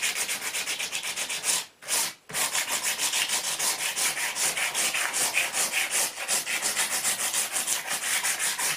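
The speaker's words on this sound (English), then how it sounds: "I've sanded all the skirting now and that's all feeling relatively smooth" Sandpaper rubs over a painted wooden staircase skirting board in fast, steady back-and-forth strokes, close and loud, with one brief pause near the start.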